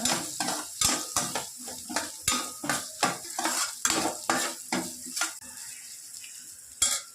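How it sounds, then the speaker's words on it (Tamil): Garlic, shallots, green chili and curry leaves sauté in oil in a pan for a Tamil oil-brinjal kuzhambu, with a steady sizzle under rhythmic, close scraping stirs roughly every half second, and no one talking. "வெங்காயம் நல்லா வதங்கிடுச்சுங்க."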